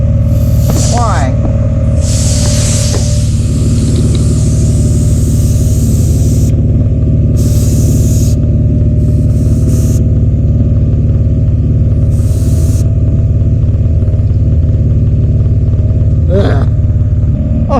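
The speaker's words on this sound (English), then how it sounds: "This compressor is not happy, so we'll shut it off." Air compressor runs continuously with a loud low droning rumble, struggling while inflating to around 20 psi, with brief hissing bursts of air recurring over it.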